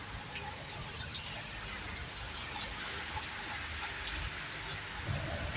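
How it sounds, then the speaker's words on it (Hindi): Heavy rain pours at night in Lahore, a steady, dense hiss of drops on surfaces that holds loud and even throughout with no voices. "बारिश कितनी हुई है।"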